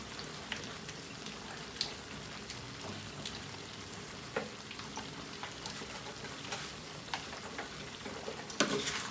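Spaghetti sauce made with Del Monte tomato sauce is stirred in a pan, giving a soft, quiet simmering crackle broken by scattered light clicks and scrapes of a utensil.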